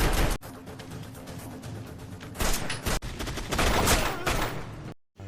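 Rapid bursts of gunfire in a film crackle loudly and almost continuously, with sharp heavy shots and a brief silence near the end, like a battle scene.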